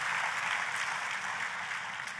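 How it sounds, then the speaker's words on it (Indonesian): A church congregation applauds for God, a dense and steady wash of clapping that fills the room at close range for a couple of seconds, with no voices standing out above it. "Tepuk tangannya yang paling meriah buat Tuhan kita."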